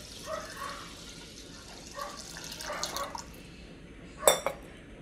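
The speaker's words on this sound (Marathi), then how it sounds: "आता त्यात पाणी ॲड करू." Water is poured into washed dal and rice in a cooking pot for Maharashtrian dal khichdi: faint, light trickles and drips, then a brief, sharper splash near the end.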